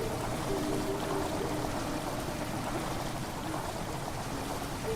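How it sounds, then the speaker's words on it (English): Water rushing into a chamber in Amnesia, a continuous steady gush like a pouring stream, even and moderately quiet throughout. "The water rushing into the chamber makes a strange sound."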